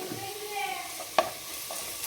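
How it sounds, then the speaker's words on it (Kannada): Ginger garlic paste sizzling in a pan for egg curry as it is stirred, a steady close hiss with a single sharp scrape of the spoon partway through. "ಇವಾಗ ಸ್ವಲ್ಪ ಶುಂಠಿ ಬೆಳ್ಳುಳ್ಳಿ ಪೇಸ್ಟ್ ಹಾಕೊಳ್ಳೋದ"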